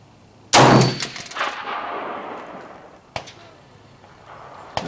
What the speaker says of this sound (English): we'll take another shot here